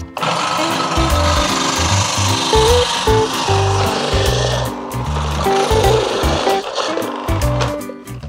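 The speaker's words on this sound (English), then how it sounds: "The first thing you can do is grate your pumpkin." Loud, continuous rasping scrapes of a pumpkin being grated, in rapid back-and-forth strokes close up, with no voices.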